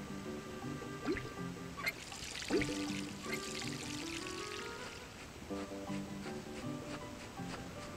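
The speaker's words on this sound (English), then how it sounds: "And the water pump." A water pump runs in Animal Crossing: New Leaf, giving a soft trickling, pouring splash that goes on continuously, with light game-music tones layered over it and no one talking.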